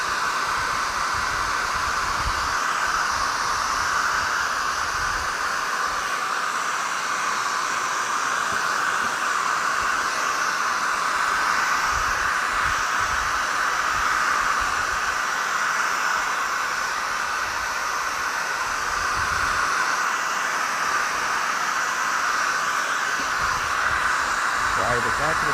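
Hair dryer blowing on the back of watercolor paper, a steady loud whooshing hiss that runs unbroken and close throughout.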